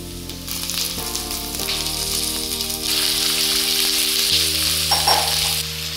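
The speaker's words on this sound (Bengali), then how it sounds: "পেঁয়াজ 1 থেকে 2 মিনিট কুক করে নেওয়ার পরে দিয়ে দেব কড়াইতে চিকেনের পিসগুলো।" Chicken pieces fry with onion in a kadai, giving a steady bright sizzle that swells partway through, with sustained musical tones playing underneath.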